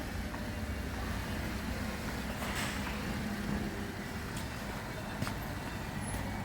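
A Holden VF Calais fitted with a high-flow catalytic converter pulls away, its engine and exhaust a low steady rumble that fades gradually into the distance amid outdoor background noise.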